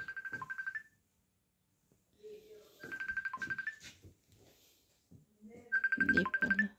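A phone ringtone plays in three repeating bursts, loud and close, with speech and quieter room sounds in the gaps between rings.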